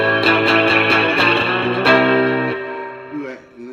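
A Rickenbacker 330 electric guitar played through a Boss Katana 50 amp with hall reverb set high strums a run of loud rhythmic chords, then lets a final chord ring out and fade into a long reverb tail with a few quieter notes.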